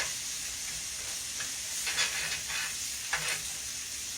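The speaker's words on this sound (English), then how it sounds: "I'm going to stir it in with my onions and my other stuff" Flour is stirred into onions sizzling in a pan, a steady frying hiss with a few louder scraping strokes of the spoon, close and alone without talk.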